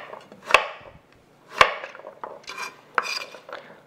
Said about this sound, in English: These I'll cut into kind of triangular shapes